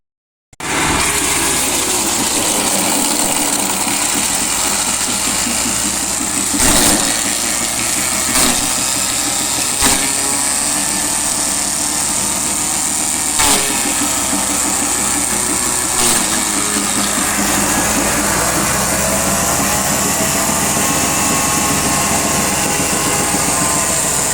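A wood chipper mulcher running loud and steady, its engine churning at a constant pitch with a few brief sharp knocks as material goes through, no talking.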